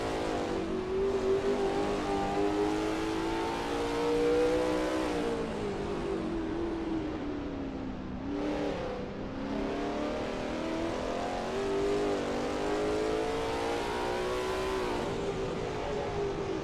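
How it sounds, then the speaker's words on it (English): A Lola T70 MkII Spyder race car roars around the Kyalami circuit in a 1967-era racing video game, its engine loud and continuous, pitch rising and falling through gear changes and corners, with a short dip partway through. "the roar of the engine"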